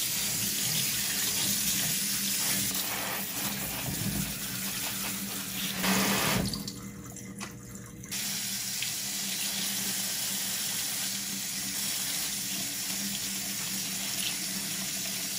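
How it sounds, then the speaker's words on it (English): Cold tap water runs steadily over pork belly pieces in a colander in a home kitchen, cutting out briefly partway through before resuming at a constant rush. "And then we'll rinse the pork under cold water for a minute or two."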